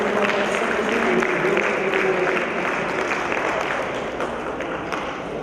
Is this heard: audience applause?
yes